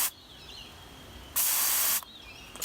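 A can of deodorant sprays in one loud, steady hiss lasting about half a second, close and alone, with quiet room tone before and after and a faint brief hiss at the end.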